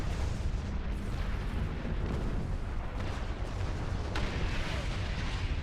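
Dense, continuous rumbling explosions and booming blasts from space combat in the video game Star Trek Online, loud and sustained with no pauses and a few sharper bursts.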